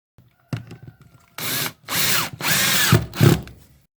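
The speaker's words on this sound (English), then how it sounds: "we're going to screw it down right there beside it" A power drill drives screws down through a custom boat floor board, a short whir near 0.5 seconds followed by three loud sustained bursts of drilling, close by with no talk.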